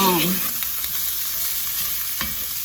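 Homemade chili ingredients stirred in a pot with a spoon, soft scraping strokes over a continuous gentle sizzle, close and steady with a brief clunk near the end.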